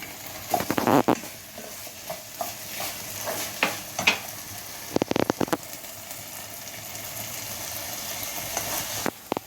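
Pasta in a pan as tomato sauce goes in, with a soft sizzle and scraping stirs and a few sharp clatters near the start and around five seconds, close and fairly quiet.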